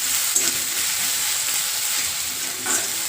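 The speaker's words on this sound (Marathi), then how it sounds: "सगळं आहे ना एकत्र करून आहे ना चांगलं भाजून घ्यायचं आहे मसाल्याला तेल सुटेल तोपर्यंत" Ghati masala and half a spoon of turmeric roasting in hot oil for a steamed ghevda bhaji, a steady close sizzle with brief stirring scrapes and no talking.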